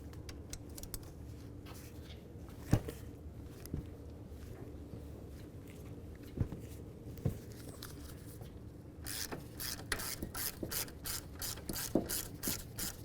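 A ratchet works loose the 15mm caliper bracket bolts on the front wheel of a 2000-2005 Buick LeSabre, with faint clicking and occasional knocks that give way to a fast, loud run of ratcheting clicks near the end.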